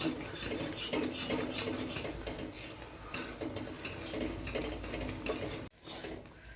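A spoon scrapes and clatters around a pan as a Mysore Pak mixture is stirred with ghee, giving close, rapid, rhythmic metallic scraping that runs steadily before a brief pause and then resumes.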